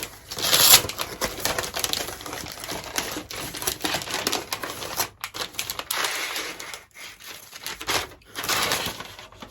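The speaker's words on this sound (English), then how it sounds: "We'll undo our ribbon. And we'll unwrap." A flat gift package being unwrapped after its ribbon is undone, with continuous close crinkling and tearing of paper in irregular bursts, loudest near the start and fading in and out.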